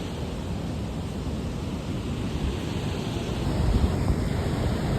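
Water rushes steadily from the open shutters of a dam at Aruvikkara near Thiruvananthapuram, a dense, continuous roar heard alone and swelling slightly louder toward the end.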